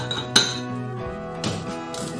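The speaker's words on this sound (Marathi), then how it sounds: "आपण आता कुकर उघडून बघू" A cooled pressure cooker holding khichdi is opened, with a few sharp metallic clinks and knocks of the lid against the pot, close by and without talk.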